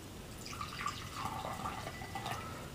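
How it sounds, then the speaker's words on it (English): A shot of Herbsaint absinthe pours into a glass, a soft, steady liquid trickle with faint splashing, close and quiet throughout, with no talking. "I'm going to pour in my shot."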